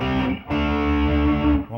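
Electric guitar with heavy distortion playing power chords (B5, C5, D5), two loud sustained chords with a brief break between, ringing thick and close, no talking.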